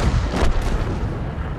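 A tank cannon fires in World of Tanks, giving one loud, close, booming blast that rolls into a dense rumble and then fades off.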